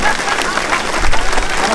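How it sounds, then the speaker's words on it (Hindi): Applause from a live audience at a comic poetry show, a loud, dense wash of clapping lasting under two seconds, with some crowd noise and voices mixed in. "तालियां जोरदार बजनी चाहिए।"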